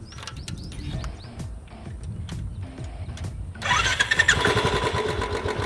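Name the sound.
motorcycle engine starting to run carburettor petrol dry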